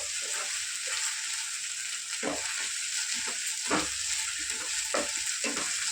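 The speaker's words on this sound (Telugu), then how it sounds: "అల్లం పేస్ట్ కూడా కొంచెం మంచిగా వేగిపోయిందాక పచ్చివాసన అంతా పోయి బాగా వేగిందాక వేసుకోవాలి." Ginger paste sizzles steadily in a hot pan for a prawn curry, a constant bright frying hiss broken by several scraping stirs of a spoon, close up and with no talking.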